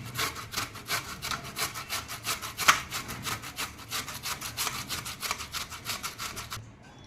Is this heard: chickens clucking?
no